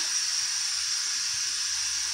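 Water pours steadily into a pot for homemade sweet tea with honey, a continuous soft hiss that stays even and fairly faint throughout, with no talk.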